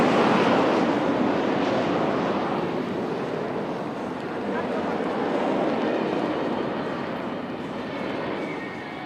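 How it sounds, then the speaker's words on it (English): Indian Air Force jets crossing each other at an air show over Marina Beach, Chennai, a broad roaring rumble that swells and sustains throughout, loud and continuous with crowd and commentator voices underneath. "These aircraft will now be crossing each other right in front of you."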